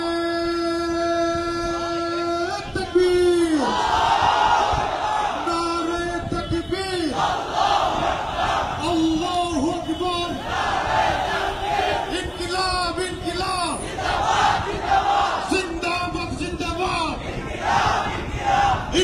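A large crowd of student activists at a Dhaka University rally chants slogans in loud, rhythmic call-and-response waves, the massed voices rising and falling repeatedly throughout.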